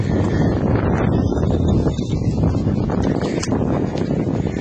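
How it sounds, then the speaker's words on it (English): Wind blows across a rooftop with constant broadband rushing and buffeting that sounds close to the microphone, steady and fairly loud for the whole stretch. "Not sure if you can hear it, but it's a little windy in here."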